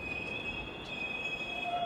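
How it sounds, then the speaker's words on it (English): A London DLR light-rail train pulls into a station, its wheels letting out sustained high metallic squeals over a steady rumble, close and fairly loud. "Our DLR train is here now."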